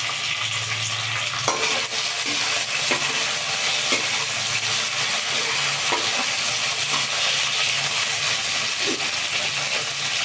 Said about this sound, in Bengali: আলুটাকে আর একটু ভেজে নিতে হবে এবার আমি কিছুটা টমেটো দিয়ে দিলাম